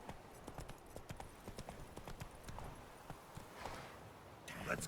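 Horse hooves clip-clopping in the video game The Witcher 3, a steady walking rhythm of distinct close hoof strikes over an ambient bed, quiet overall, with a voice talking over it.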